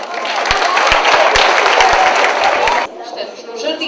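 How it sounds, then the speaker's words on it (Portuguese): An audience at a school event claps for a class about to perform, a burst of crowd applause with a few distinct near claps, cutting off abruptly partway through, after which faint murmuring and room sound remain. "Palmas para eles!"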